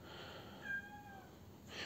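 A young kitten meows softly, one thin drawn-out mew in the middle of an otherwise quiet room, faint and close.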